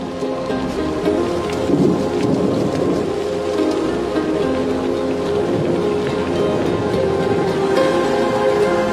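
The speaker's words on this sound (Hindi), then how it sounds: "आखिरकार बारिश का मौसम आ गया।" A thunderstorm with heavy rain pouring steadily on surfaces, low rolling thunder rumbling underneath, loud and continuous with no voices.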